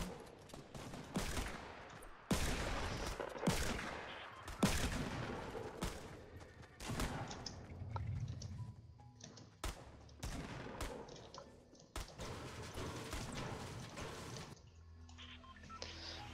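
Gunfire in the Fortnite video game, a series of sharp irregular shots and bursts with quieter gaps between them, some close and loud, others lighter.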